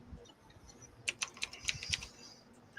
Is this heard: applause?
no